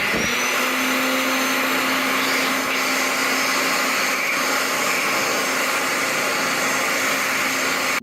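Slim Dry hand dryer in a family restroom: a loud, steady, close-up blowing roar with a slightly high-pitched whine, running without a break from start to finish.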